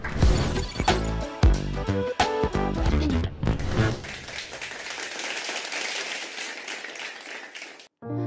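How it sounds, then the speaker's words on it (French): A studio audience applauds at the close of a French podcast episode on the ecological and energy transition: loud, dense clapping for a few seconds that thins into a softer wash of noise before cutting off abruptly. "Je pense qu'on peut s'applaudir sur cette fin d'épisode"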